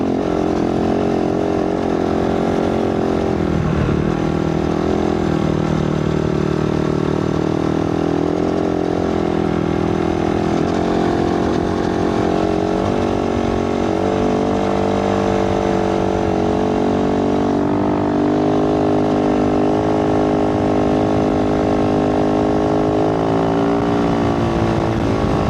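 A dirt motorcycle fitted with a 51-tooth rear sprocket labors through deep desert sand, its engine droning loud and continuous close by with slight rises and falls in revs, no pauses.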